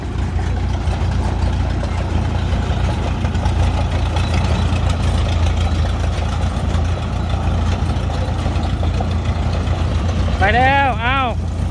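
A combine harvester being driven to a customer, its engine droning steadily and loudly with a constant low hum throughout, and a few short bird-like chirps near the end.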